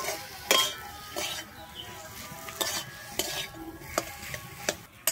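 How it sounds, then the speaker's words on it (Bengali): Potatoes are stirred with spices in a pan for potato fritters, with a spoon scraping and clinking against the metal every second or so over a low, steady sizzle. "আমি আলুটা এবারে মশলার সঙ্গে ভালোভাবে মিশিয়ে নেব।"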